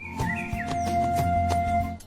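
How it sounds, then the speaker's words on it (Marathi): Birds chirp sporadically with thin, whistly calls, soft and somewhat distant, against a quiet forest background. "फक्त वाऱ्याचा आवाज आणि पक्ष्यांचा किलबिलाट ऐकायला येतो"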